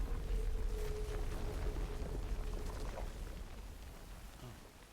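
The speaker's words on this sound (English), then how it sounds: "it sure is constantly raining." Rain falling in the video game Death Stranding, a steady low rushing hiss of downpour with a deep rumbling undertone, moderately loud and slowly easing off, with no talk over it.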